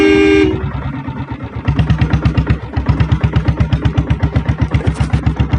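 A Royal Enfield diesel Bullet motorcycle gives a short horn toot, then its engine settles into a loud, steady, rapid thumping as it rides along close by.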